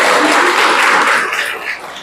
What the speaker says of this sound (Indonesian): Boleh tepuk tangan untuk Faiz?